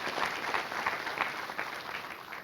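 An audience at a Jack Ma event in Kenya claps steadily, a thick, even roar of many hands that continues without a break and sounds full and close.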